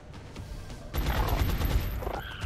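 A soldier's shot in XCOM: Enemy Within, a loud burst of rapid gunfire that starts abruptly after a quiet lead-in and rattles on for over a second, close and dense, with no talk.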